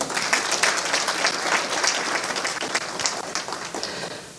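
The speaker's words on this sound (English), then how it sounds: "Can you clap for yourselves?" An audience at a speech by a Kenyan ambassador claps steadily and densely, a sustained, even round of applause from a crowd with no talk over it.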